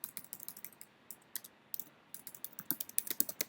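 Fast typing on a computer keyboard as a web search is entered: crisp, close key clicks in irregular bursts with brief pauses, and no talk.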